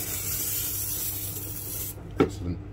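Hissing spray from a spray bottle onto a worm bin that sputters and thins out, ending in a few short uneven bursts as the bottle runs nearly empty.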